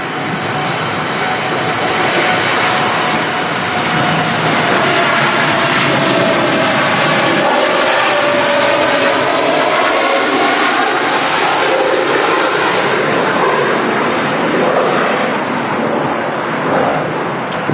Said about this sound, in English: Here we go, TUI Dreamliner about to take off.